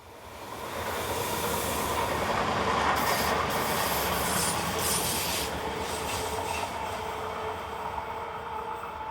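Train hauled by locomotive 535 112 rolling past near a viaduct in the Rhone Valley, a steady loud rumble and rail hiss lasting throughout with faint wheel squeal, no voices.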